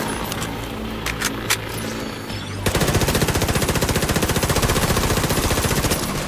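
Rapid automatic gunfire rattles in The Division 2 as a player shoots the armor off a boss. The firing comes in a loud, dense, continuous burst after a quieter stretch of scattered game sounds.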